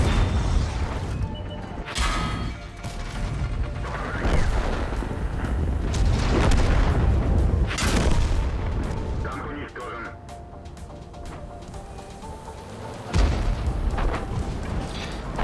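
Tank cannon fire in World of Tanks, several heavy booming shots spaced a few seconds apart amid rumbling engine and battle noise, with someone talking over it in German.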